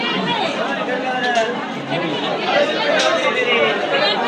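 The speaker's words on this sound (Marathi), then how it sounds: "जाताना पुन्हा तेवढीच गर्दी आहे" Steady chatter of a dense crowd of pilgrims at the Bhimashankar temple in the morning, many overlapping voices close by, continuous with no single voice standing out.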